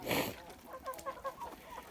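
Domestic hens and ducks in a backyard poultry run give a few short clucking calls in a quick uneven series, close by, after a brief louder rustle at the start.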